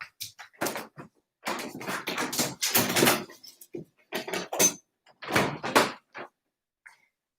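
A door rattles and clatters in a series of irregular knocks, scrapes and thumps as a spaniel helps push it open, close and fairly loud, with short gaps of silence between bursts.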